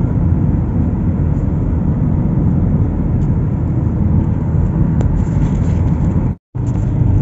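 Toyota Sienta V engine pulling steadily in traffic as the transmission steps through manual-mode gears, a continuous loud drone with a brief sharp dropout near the end.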